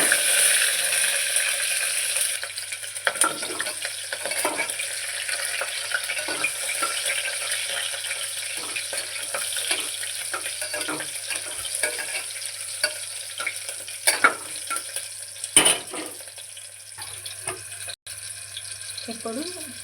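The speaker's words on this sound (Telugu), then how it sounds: "ఇప్పుడు పచ్చిమిర్చి అనేది కూడా కొంచెం వేగింది" Green chilies and cumin fry in a pan, a continuous sizzle with scattered stirring scrapes and clinks, while a voice talks faintly in the background.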